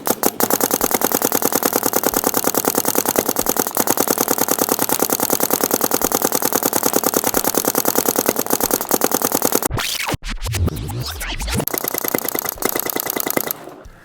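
A paintball marker fed by a Maxxloader hopper fires a rapid, steady stream of loud close shots for about ten seconds, pauses amid some handling noise, then fires another fast burst.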